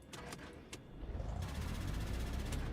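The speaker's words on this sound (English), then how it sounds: "you can hear the starter motor going" In X-Plane 12, an aircraft engine starter motor cranks with a steady whirring drone that builds and holds, with faint clicks early on.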